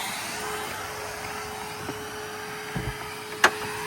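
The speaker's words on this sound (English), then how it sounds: "But we can Hoover it." A Henry vacuum cleaner hoovers the inside of a car, a steady whining motor drone, close and continuous, with a few knocks and a sharp clatter as the nozzle bumps about.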